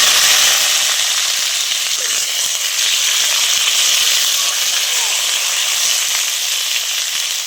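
Broad beans frying in hot oil in a kadai with dried red chillies and nigella seeds, a loud continuous close sizzle that stays level throughout with a few faint crackles and no spoken words.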